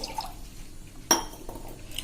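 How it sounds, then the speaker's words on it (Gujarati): Water poured into a jar to hold a bunch of coriander, a short splash and trickle with a brief sharper burst midway and another at the end, close and fairly quiet, no talking. "એમાં તમારે પાણી નાખી દેવાનું છે"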